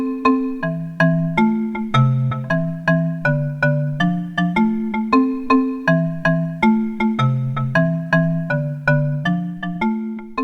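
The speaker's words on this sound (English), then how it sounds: "I recorded a little bit of marimba sound like this." A recorded marimba loop plays back a bouncy, repeating pattern of mallet notes with quick decays, steady rhythm and clear bright attacks, heard alone at a moderate level.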